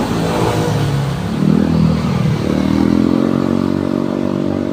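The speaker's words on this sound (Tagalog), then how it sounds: "Dami po nagra-ride dito. Motor, kotse, bike." Motorcycles and cars rumble and rev as they pass nearby, a loud, continuous roar rising and falling over a few seconds.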